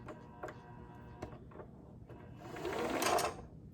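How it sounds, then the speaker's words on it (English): A Janome sewing machine winds thread onto an empty bobbin: a few mechanical clicks and taps come first, then the motor whirs up, builds briefly and eases off, close and clear. "You hold it tight, and it's going to wind up around"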